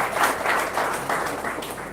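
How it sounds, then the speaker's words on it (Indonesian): Steady applause from a crowd at a church service, a dense wash of clapping at moderate volume throughout, with no pauses. "Tepuk tangan buat diri saudara sendiri."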